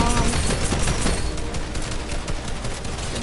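Rapid video game gunfire crackles in a loud, continuous barrage of overlapping shots with no pause.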